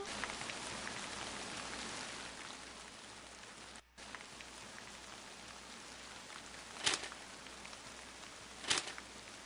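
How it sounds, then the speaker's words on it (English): Steady rain from the video game Forest Of Drizzling Rain, a dense, even hiss of drops on surfaces running throughout, broken by a brief gap and two sharper splashes or gusts near the end. "The rain has become quite terrible."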